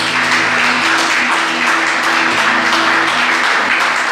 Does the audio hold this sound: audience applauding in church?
yes